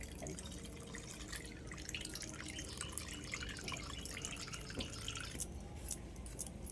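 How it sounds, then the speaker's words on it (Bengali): Coconut milk strained through a sieve into a kadai, a soft steady trickle and patter of liquid with faint drips, continuous and close. "এই নারকেলের দুধটা একটু ছাঁকনি দিয়ে ছেঁকে একদম কড়ার মধ্যে নিয়ে নিচ্ছি আগে"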